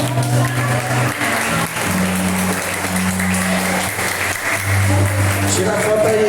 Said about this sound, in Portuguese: E a igreja corresponda com uma forte salva de palmas.